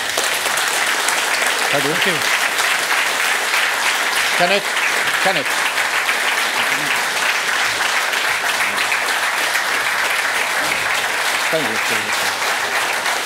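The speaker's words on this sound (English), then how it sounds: "Are we going to give this man an applause?" Sustained applause from an audience at a conference session on self-determination, with a voice briefly speaking thanks over it.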